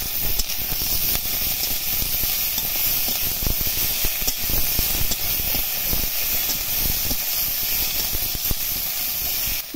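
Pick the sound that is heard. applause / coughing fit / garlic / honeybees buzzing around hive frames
garlic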